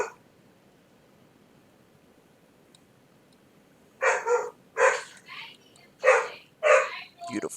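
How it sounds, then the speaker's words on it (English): Puppies at play in the online game ArcheAge Unchained let out short, sharp barks and yips in a run of quick bursts after several seconds of near silence. "And that's my puppies playing."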